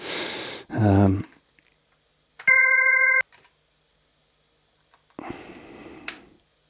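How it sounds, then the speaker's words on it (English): A brief, steady organ-like tone, a reversed organ sample, holds for under a second, set between a few short bursts of other sound and stretches of silence. "These are obviously off of like an organ."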